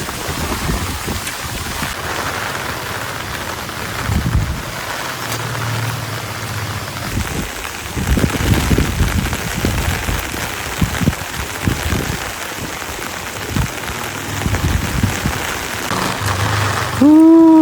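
Heavy rain with gusting wind pours down over a village with a fast-flowing river nearby, a steady dense hiss with stronger gusts and bursts swelling midway, ending in a brief tonal clatter.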